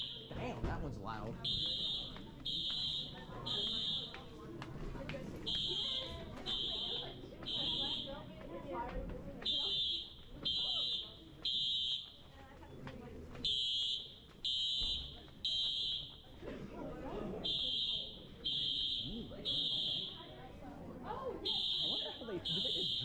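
A school fire alarm sounds during a drill, with loud, repeated electronic bursts pulsing in an uneven rhythm over roughly twenty seconds while people talk and move around nearby.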